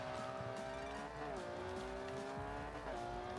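A Lamborghini Huracan in Forza Horizon 2 revs loudly and continuously, its engine tone rising and dipping through gear changes while tires squeal in a sustained, wavering whine.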